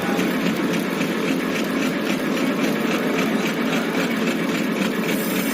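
Horizontal milling machine cutting a helical gear at a 30-degree inclination, a steady mechanical hum and grinding drone running continuously and close without pause.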